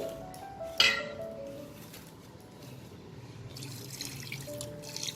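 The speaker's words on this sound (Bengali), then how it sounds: "চার কাপ মতো জল দেব।" About four cups of water pour into a pressure cooker holding 500 of washed mutton, making a steady trickling splash that starts with a brief metallic clink.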